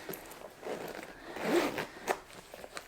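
A Saint Laurent Mini Lou camera bag is zipped shut with a drawn-out close rasp that builds and peaks midway, followed by a short final zip tug.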